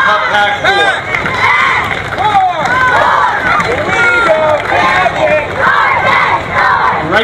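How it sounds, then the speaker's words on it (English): A street crowd at a Memorial Day parade in Scotch Plains claps and cheers as a Cub Scout pack marches past, with whoops, shouts and children's voices forming a loud, continuous roar. "Let's give a round of applause to Cup Pack 4."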